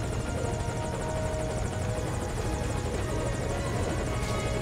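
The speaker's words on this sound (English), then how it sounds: "it doesn't appear that they actually are aware of the helicopter" A helicopter in the video game Metal Gear Solid V: Ground Zeroes, its rotor thumping in a fast steady rhythm over a constant engine roar, loud and continuous throughout with no talk.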